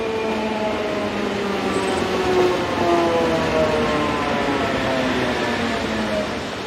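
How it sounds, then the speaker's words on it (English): Locomotive 6004 of a Swiss Golden Pass Classic service pulls in from Zweisimmen, with a steady, loud rolling rumble and a high, sustained squeal, and no voices. "Arriving with a service from Zweisimmen is locomotive 6004"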